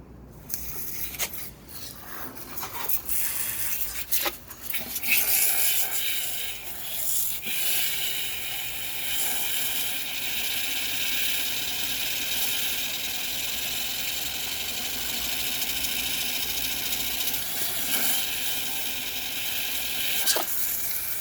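A pressure washer sprays into a bowl and sets it spinning, a steady loud hissing, grinding rush that starts with a few scraping knocks and then holds continuously.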